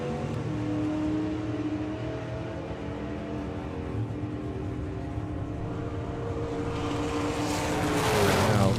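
Supercharged outlaw drag car making a run at a hot rod drag meet on a UK raceway, a distant engine roar holding steady then swelling louder toward the end, no voices.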